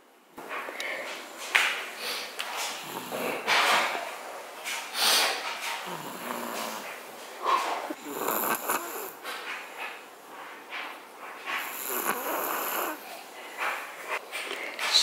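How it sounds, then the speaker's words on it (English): A sleeping person snores in a slow, repeating pattern of raspy, breathy inhales and exhales, close and fairly soft, with quiet room tone between breaths. "She's snoring."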